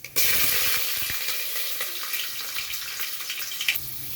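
Dried red chilies sizzle loudly as they fry in hot oil with tempering dal, a steady dense crackle with a few sharp pops, close and continuous with no talking.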